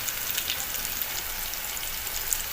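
Spices, including chilli and turmeric, frying in hot oil in a pan for a bean curry, giving a steady soft crackling sizzle with faint pops throughout.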